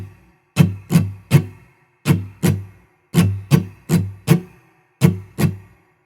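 Acoustic guitar strums ring out in short rhythmic groups, each stroke crisp and decaying, repeating a steady down-up pattern with brief pauses.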